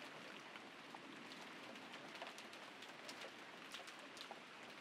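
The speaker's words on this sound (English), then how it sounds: "The only voice that called after them was the sound of the rain." Steady rain sound effect from the visual novel Umineko When They Cry, a constant soft hiss of falling rain with faint scattered drops, alone with no voices.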